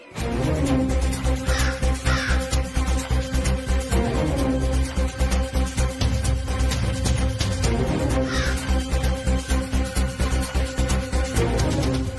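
Crows cawing repeatedly in harsh, rhythmic calls over a loud, steady background, with the caws recurring throughout and no talk.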